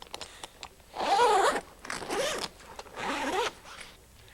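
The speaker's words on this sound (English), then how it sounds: "Release the Velcro flap and start to unzip them from the rear." Zipper pulled open in several long strokes along a Jeep Wrangler soft top side window, close and distinct with short pauses between pulls and no voices.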